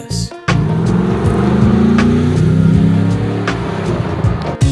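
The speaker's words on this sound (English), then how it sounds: "A GM LS3 V8 delivers unmistakable power, paired with a smooth 6-speed automatic" A Land Rover Defender 110 with a GM LS3 V8, six-speed automatic and stainless exhaust gives a loud, steady engine rumble that swells slightly, with a couple of sharp clicks near the start.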